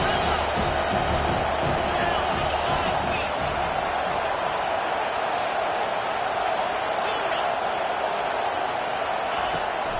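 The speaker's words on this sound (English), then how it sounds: "Decibels rising as the crowd gets behind this defense on 3rd down" A football stadium crowd roars on third down, a dense, steady wall of cheering and noise that holds loud throughout, with an announcer talking over it.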